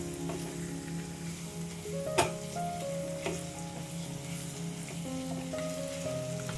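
Green paste of ginger, garlic, coriander and chili frying in oil, a soft steady sizzle under a low hum and a background tune, with two sharper utensil knocks partway through.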